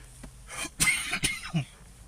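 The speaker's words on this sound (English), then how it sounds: "As you can tell, still got a little bit of a cough." A few raspy coughs close to the mic, with a throat-clearing rumble between them.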